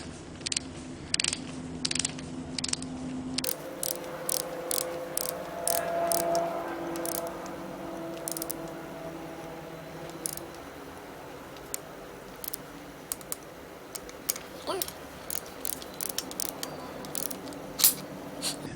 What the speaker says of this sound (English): Okay, so now I'm going to torque this down